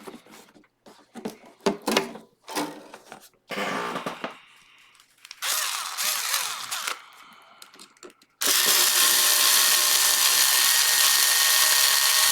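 Cordless electric screwdriver driving screws while new pickups are fitted to a guitar, several short close buzzing bursts with pauses, then a long continuous run near the end.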